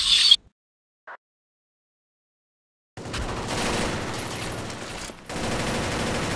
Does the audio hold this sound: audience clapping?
no